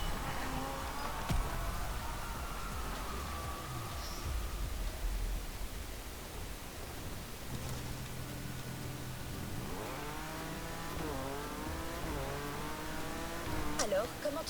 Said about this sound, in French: comment tu trouves cette BMW modifiée?